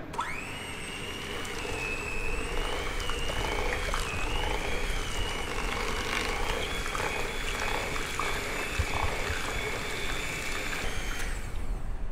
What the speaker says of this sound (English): I'm just going to give that a good old mix with the electric hand mixer